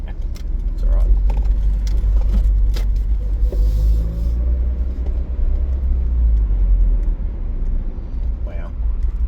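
Car engine idling in second gear while creeping through slow traffic near Adelaide, a steady low rumble filling the cabin with a few rattles and faint clicks over it.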